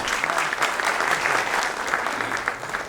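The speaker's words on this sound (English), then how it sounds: "let's welcome with a big round of applause" A conference audience at a national capital markets event claps in sustained, dense applause to welcome a speaker, steady and fairly loud for the whole stretch with no talking over it.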